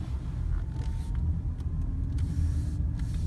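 A Lexus LC 500h hybrid coupe moving on electric power, a steady low road rumble with a faint whine heard from inside the car, with occasional light clicks and no voices.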